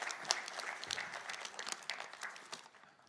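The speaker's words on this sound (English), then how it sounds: "let's give him a big applause" An audience at an industry conference in Porsgrunn claps in a brief, dense burst of applause that tapers off toward the end, heard at moderate distance with no talking over it.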